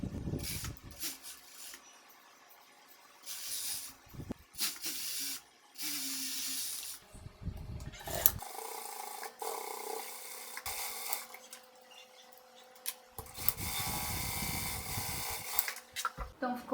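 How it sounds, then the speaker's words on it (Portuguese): An overlock sewing machine stitching the front and back crotch seam of a pair of shorts runs in several short bursts of rapid whirring, close and fairly quiet, with pauses of near silence between runs. "E agora eu vou lá para a máquina overlock, vou passar uma costura para unir gancho dianteiro e gancho traseiro."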